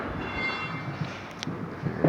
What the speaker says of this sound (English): that is the train on Central Avenue